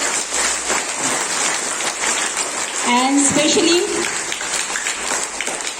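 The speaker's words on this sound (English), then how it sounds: "So clap for them" Class 5 students at a morning school assembly receive a sustained round of applause from the gathered audience, steady clapping filling the space throughout, with a brief voice heard over it.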